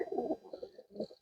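A long-distance racing pigeon in a loft gives a short, close, soft coo in a few throaty pulses.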